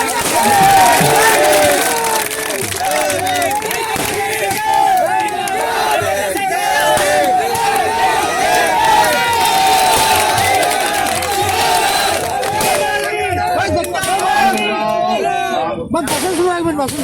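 A large crowd cheers and shouts for Chandrashekhar Azad at a road show rally in Rania, a loud, dense roar that stays near and continuous, with whistles and claps mixed in and voices rising over it.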